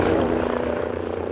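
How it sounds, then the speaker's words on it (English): Swedish Air Force HKP-15 helicopter in flight, its rotor and turbine making a loud, steady, close drone that holds without a break. "The HKP-15 is the Swedish Air Force's latest helicopter system."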